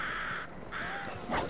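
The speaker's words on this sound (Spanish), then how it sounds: "¡Un cuervo bebé! ¡Un cuervo bebé!" A baby crow in a video game caws in a few harsh, close calls, clear and loud over a faint background with no speech.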